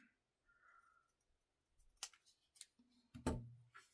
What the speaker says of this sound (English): I'm going to trim that down a little bit more